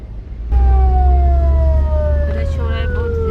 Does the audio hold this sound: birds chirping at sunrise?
no